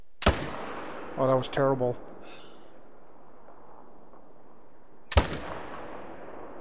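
An AR-platform .300 rifle fires two sharp, loud gunshots outdoors while hunting, one at the start and another about five seconds later, each with a quick echoing decay, and someone speaks briefly between them.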